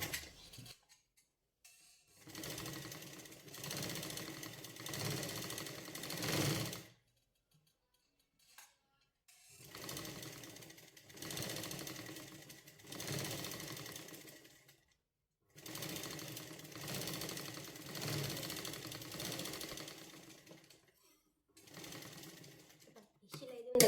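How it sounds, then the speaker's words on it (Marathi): A sewing machine stitching a sleeve join, three steady bursts of rapid mechanical whirring separated by short silences, close and moderate in level. "आता वरून येणार टीप मारून घ्यायची अर्धा चिंचाची शिलाई घ्यायची आहे"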